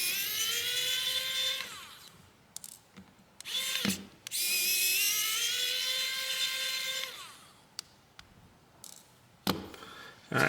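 An electric screwdriver whines as it backs screws out of a Maxwest Nitro A65 phone, two long rising runs with short clicks and handling noises between them, close up and without talk.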